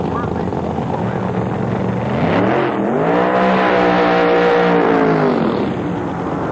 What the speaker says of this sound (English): The Oldsmobile coming up, ready to do the burnout here in round number 1 of Federal Mogul Funny Car.